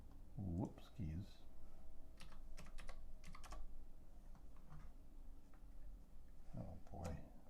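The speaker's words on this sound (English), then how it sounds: "I learned how to type today." Rapid clicking of keys on a computer keyboard, with uneven bursts and a few sharper taps under a person talking nearby.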